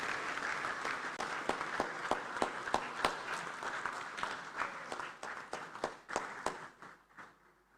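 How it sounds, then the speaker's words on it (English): A conference audience at an African inter-parliamentary gathering gives a round of applause, fairly distant and faint, with distinct claps in a loose rhythm that thin out and fade toward the end. "Please, a round of applause for her."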